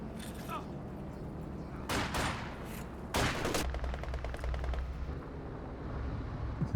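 Tank gunfire in Company of Heroes 2, a World War II strategy game: heavy booming shots and bursts of rapid fire over a constant battle din, loud and close, with a commentator talking.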